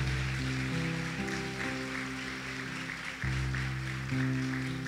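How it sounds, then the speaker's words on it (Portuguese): Congregation at a Brazilian church celebration service applauding, a steady, soft wash of clapping beneath sustained organ-like musical chords, moderately distant and continuous. "Você pode aplaudir o Senhor com uma alegria?"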